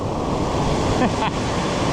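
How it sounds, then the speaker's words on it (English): Fast-flowing mountain river rushing over rocks, a steady broadband roar that fills the clip without pause. It sounds close and constant, with wind mixed in. "A lot of this water's really fast, and I can't tell how deep it is."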